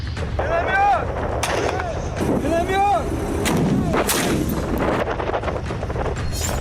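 Heavy artillery and gunfire during the Russian attack on Ukraine near Kyiv: loud repeated booms and cracks roll through, with whistling sweeps overhead and a dense rumbling background throughout.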